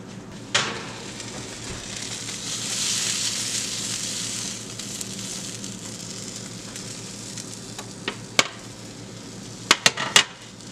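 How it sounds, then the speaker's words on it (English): Steady hiss of hot dogs sizzling fresh out of the oven with a crackling wash, then several sharp clanks and taps near the end, like a tray or utensils. "Let's hear those sizzling hot dogs come out."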